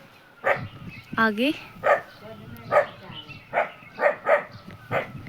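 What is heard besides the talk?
aunt's dog barking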